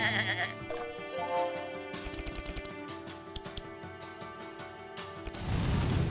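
Sheep bleat several times in the video game Across the Obelisk, clear and prominent over layered game effects and tones, with a burst of noise at the end.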